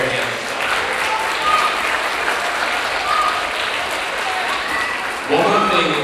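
Parents and guardians applaud at a school spring concert, a steady wash of crowd clapping from a large room with faint voices underneath and a slight swell near the end.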